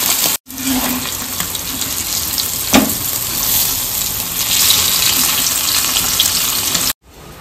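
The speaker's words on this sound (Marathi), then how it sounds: "आता आपण मासे फ्राय करून घेऊया।" Rava-coated kingfish fries in a pan with a loud, continuous sizzle, a sharp crackle near the start and another burst at three seconds, then abrupt cutoffs at both ends.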